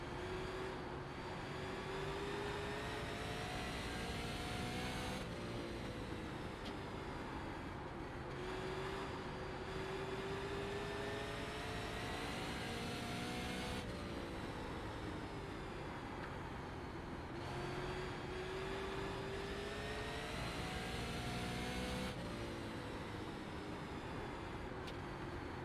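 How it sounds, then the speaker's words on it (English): NASCAR stock car engines roar at Pocono Raceway, a continuous loud drone with rising and falling pitch as cars sweep past in waves, no voices over the engine noise. "This is what a race car should sound like."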